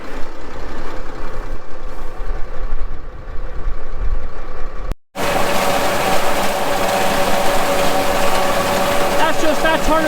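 Crown rake working behind a tractor with no loader fitted, a steady mechanical rumble and rattle that drops out briefly halfway through, then resumes as a fuller, louder clatter with engine drone.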